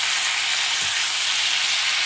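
Bacon frying in a hundred-year-old cast iron pan, a loud, steady close-up sizzle with fine crackling and one soft low bump partway through, no voices.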